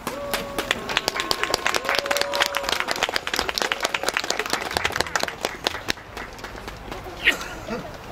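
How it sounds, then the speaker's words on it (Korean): Outdoor crowd applause at a March 1st Independence Movement Day commemoration in front of a peace girl statue, scattered sharp claps of moderate loudness that gradually thin out, with talking heard in between. "여러분 힘찬 박수로 맞아주시기 바랍니다"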